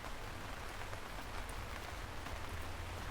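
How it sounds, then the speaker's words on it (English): Steady rain falls continuously on an outdoor walk to a cafe, a dense, even hiss that stays at one level for the whole stretch with no talking. "Oh god, this rain is so fucking annoying."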